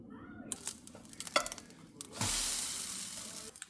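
Pancake batter meets a hot pan with a sudden steady sizzle midway, preceded by a few clinks and soft kitchen handling, heard fairly close and moderately quiet.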